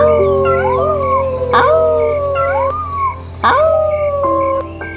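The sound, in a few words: foxes howling at night, cartoon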